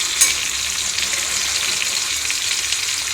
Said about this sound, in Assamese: ইফালে মাছ ফ্ৰাই কৰিছোঁ